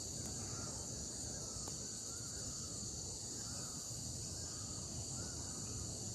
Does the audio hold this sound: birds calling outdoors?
yes